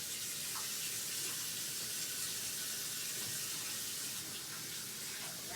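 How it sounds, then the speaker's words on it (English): A running kitchen tap splashes steadily as hands are rinsed of raw burger meat, a close, continuous hiss of water with small shifts as the hands move through the stream. "I'm going to give my hands a quick rinse here"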